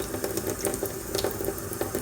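Water runs and splashes steadily while persimmon seeds are rinsed in a strainer, a continuous close washing noise with faint irregular taps and clatter of the seeds, and no talking.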